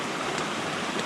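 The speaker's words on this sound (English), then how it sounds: "we have come to the water crossing on the Pemi, which is really not bad" Stream water rushing steadily at a river crossing on a branch of the Pemigewasset in the wilderness, a constant close broadband wash with no voices.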